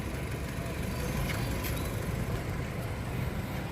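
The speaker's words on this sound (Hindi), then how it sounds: "अभी जो है इंजन चल रहा है" A Maruti Suzuki Brezza engine idles with the bonnet closed, a quiet, even hum and soft broadband rush holding steady throughout with no revving.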